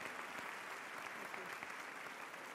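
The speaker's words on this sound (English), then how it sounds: "I think that's worth a round of applause" A conference audience at an innovation panel gives a round of applause; steady, even clapping heard faintly and at a distance, lasting a couple of seconds.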